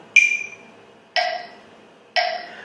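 Three evenly spaced, sharp clicks about a second apart, each with a brief bright ring that fades, heard alone in quiet.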